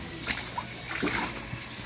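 Tilapia in a small biofloc pond thrash and jump, throwing out a string of sharp wet splashes and sloshes, close by and moderately loud, over a steady background of running water.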